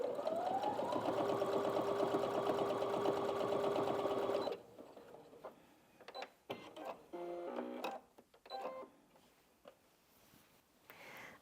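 A Brother Innov-is NV1800Q sewing machine stitches in a steady, loud run for about four and a half seconds, then stops, leaving faint handling clicks and rustles.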